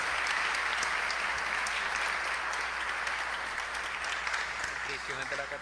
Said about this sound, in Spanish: un aplauso, Ian